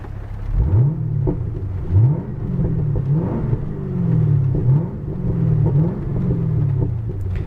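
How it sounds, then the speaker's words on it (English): A Chevrolet Camaro SS engine revs repeatedly from inside the car with the window slightly down, several rising-and-falling blips of deep rumbling exhaust over a steady idle, loud and close. "let's give a couple revs inside the vehicle"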